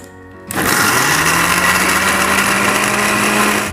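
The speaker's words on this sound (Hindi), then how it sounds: "तो अब हम इसे अच्छी तरह से पीस लेंगे।" A mixer grinder grinding vegetables switches on abruptly after a moment of quiet and runs loud and steady, whirring and grinding continuously to the end.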